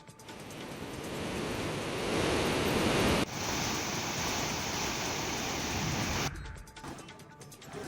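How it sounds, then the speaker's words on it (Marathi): Floodwater of the Manjara river, swollen by heavy rain, rushes in a loud, steady broadband roar with no pauses; the texture shifts abruptly twice, and the sound is dense and close throughout. "मुसळधार पावसामुळे इथल्या मांजरा नदीला पूर आलाय"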